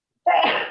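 One sudden, loud sneeze bursts out after a brief silence and trails off quickly, close and alone.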